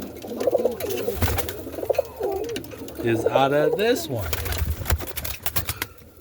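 Pigeon cooing from tiger grizzle roller pigeons in a loft at night, soft repeated coos close by, mixed with someone talking over them.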